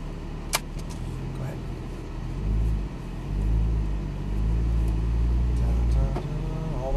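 A Porsche Cayman GTS in manual first pulls out onto a race track, its engine rumbling low and steady and swelling as it accelerates, with a brief click early on and some cabin noise throughout.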